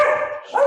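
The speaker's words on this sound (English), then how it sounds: "And that's my dog." A pet dog lets out a close, loud bark that rises into a second higher, whiny yip, heard alone at home with no talk.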